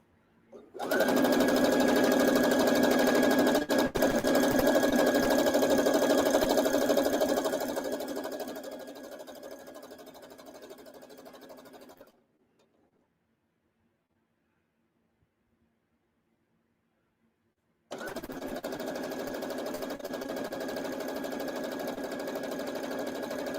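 A sewing machine piecing a quilt top runs in a long, steady mechanical whir, slows and fades, falls silent for several seconds, then starts again at an even pace.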